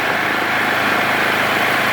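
GGA 3900/4 SW generator running steadily close by, a loud, even mechanical drone with no change in pitch throughout, powering a 220AD-G JBT TIG welder.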